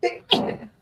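A sudden sneeze bursts out at close range, a sharp explosive burst followed by a breathy tail, alone with no talk around it.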